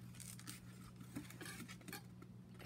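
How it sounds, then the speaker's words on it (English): A knife slicing through a citrus fruit, such as a lemon, on a cutting surface, heard as faint, quiet cutting clicks and scrapes over a low steady hum with no talking. "you're going to cut the fruit in half"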